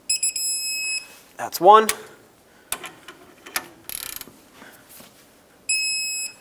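Torque wrench clicking as it reaches spec on rear brake caliper bolts of a 2008-2010 Ford F-450, with sharp ratchet clicks and a metallic chirp between a man's spoken remarks, close and fairly loud.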